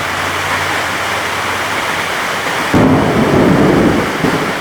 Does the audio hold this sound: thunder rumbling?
yes